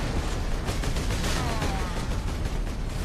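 Dense, continuous gunfire rattles on in the Warhammer 40000: Space Marine video game, with heavy shots and explosive noise blending into a loud, unbroken barrage and no clear speech on top.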